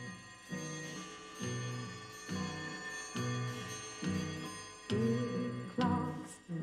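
A children's song renders a clock's tick-tock as a musical imitation: evenly spaced, tonal pulses about once per second that grow a little louder toward the end.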